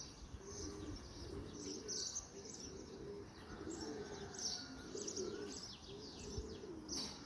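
Racing pigeons coo steadily in a loft, low rounded calls repeating in overlapping phrases throughout, with light chirps, scattered high twitters and occasional wing flutters, fairly close and without talk.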